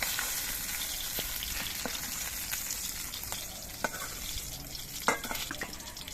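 Pointed gourd (potol) pieces fry in a little leftover oil in a wok. A moderate, steady sizzle carries scattered crackles and pops, with no talking.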